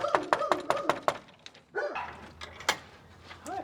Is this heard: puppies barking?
yes